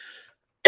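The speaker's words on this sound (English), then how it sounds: "This cough about to be gone." A faint trailing breath, a short silence, then one sharp, close cough.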